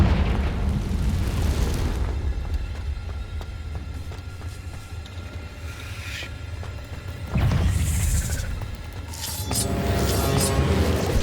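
Confringo blasting spells erupting in Hogwarts Legacy on Switch, deep rumbling booms in two waves: a loud burst fading away, then a second blast with crackling debris, no voices.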